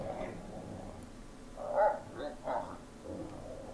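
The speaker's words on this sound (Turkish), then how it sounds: "Köpek sesi gibi sanki." A few faint dog barks and yips come in short bursts over a quiet, hollow-sounding background, somewhat distant, in a horror video game.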